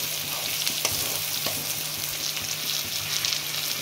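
Potato curry in a pan with water just added, giving a bright steady sizzle and bubbling hiss broken by a few scraping stirs, close and continuous with no speech.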